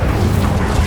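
An Incendio fire spell bursts in Hogwarts Legacy as a short, loud whooshing roar of flame with a low rumbling body, heard on its own for under a second.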